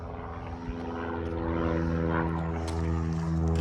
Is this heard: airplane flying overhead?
yes